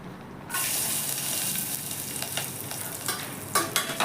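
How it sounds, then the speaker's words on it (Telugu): Mustard seeds, cumin, turmeric, curry leaves and garlic hit hot oil for a tempering and burst into a loud, steady sizzle after a brief quiet start, with sharper popping crackles near the end. "హీట్ అయ్యాక ఆవాలు, జీలకర్ర, పసుపు, కళ్యామాకు, ఎల్లిపాయలు ఇట్లా వేసి పోపు వేసుకోవాలి."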